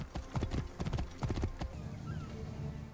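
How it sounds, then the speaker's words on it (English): A horse in the video game Assassin's Creed Origins trots with quick, clear clip-clopping hoofbeats in uneven bursts, then eases off into a softer background near the end. "let's take this horse back to his owner"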